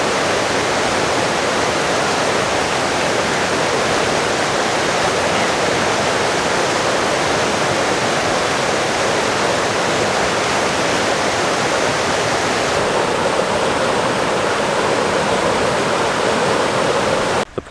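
Steady, dense roar of a waterfall, broad and unbroken throughout, loud and close with no voices.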